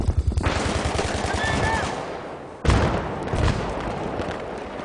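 Rapid automatic gunfire and a sudden grenade blast in the video game Battlefield 3: a rattling burst of shots, then a sharp explosion cuts in midway, followed by another thump and lingering noisy rumble.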